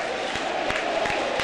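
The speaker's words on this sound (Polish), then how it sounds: "Brawa od kibiców." Stadium crowd noise from football fans at a Stomil Olsztyn versus Legia Warszawa match, a broad steady roar of applause and cheering with a few sharper claps standing out, heard from within the stands.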